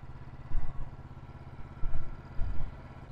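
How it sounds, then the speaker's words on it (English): A tractor engine warming up in snowy Norway, a low chugging idle with irregular throbbing surges, moderately close, alone with no talking. "Meanwhile, the tractor is warming up."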